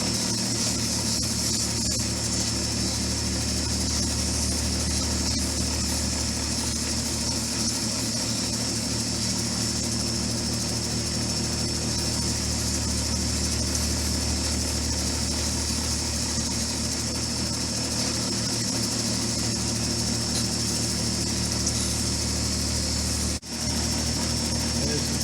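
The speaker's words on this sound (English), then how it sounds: "Now we're at the 280 grit wheel." A lapidary 280 grit wheel grinds an Apache tear stone, giving a constant, loud motor hum with a dense, steady grinding texture and no pauses.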